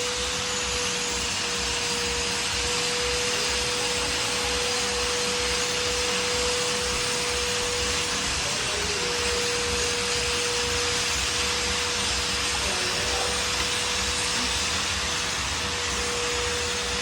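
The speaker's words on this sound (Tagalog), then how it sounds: "i-vacuum mo" A vacuum cleaner runs steadily and loudly for the whole stretch, a constant broadband roar with a fixed whining tone and no pauses.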